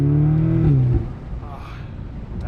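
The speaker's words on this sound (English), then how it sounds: "This thing is still so strong. Hey, the minute you put your foot down." A 2020 Audi S3 8V pulls hard under full throttle, a loud engine drone climbing in pitch for about a second before cutting off, then leaving quieter road and cabin noise.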